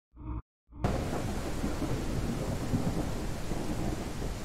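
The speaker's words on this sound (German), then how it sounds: "Gewitter, Unwetter eigentlich ziemlich extrem laut." Thunder and heavy rain from a storm in the video game No One Survived: a brief cut-off sound, a moment of silence, then a dense, continuous roar of rain and rumbling thunder filling the space.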